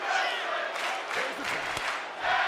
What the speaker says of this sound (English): Hear the crowd chant tag team wrestling.